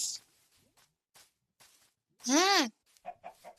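A short, loud chicken cluck rises and falls in the middle, with faint scattered clucks and rustles around it, close by.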